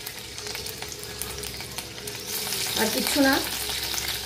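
Chopped ginger and garlic dropped into hot white oil in a wok for home-style chicken Hakka noodles, with a steady sizzle that swells loudly partway through, accompanied by stirring and a brief spoken remark.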